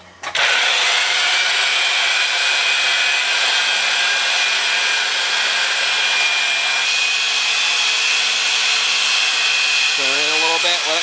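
Pipe threading machine cutting threads on black steel pipe, a steady loud motorized whine and grinding hum running continuously throughout, with a brief shift in pitch near the end.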